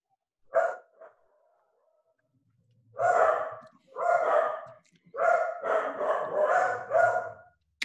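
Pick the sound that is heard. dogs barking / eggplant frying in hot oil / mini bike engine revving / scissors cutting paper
dogs barking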